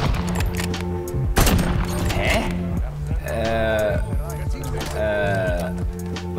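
Sniper rifle fire in a Call of Duty match, several sharp shots with bleating-like game sounds and other effects between them, under German gameplay chatter.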